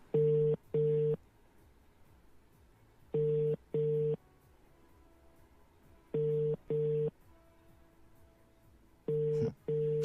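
Telephone ringback tone heard through the line: pairs of steady electronic beeps repeating every few seconds, four cycles, with quiet hiss between.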